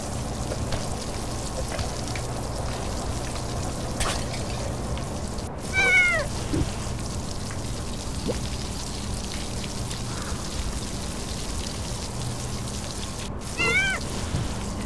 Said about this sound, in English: she's watering her plants